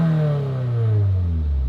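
A Subaru WRX engine with a newly fitted axleback exhaust gives one quick rev, rising then falling over under two seconds, loud and close with a throaty tone and no talk.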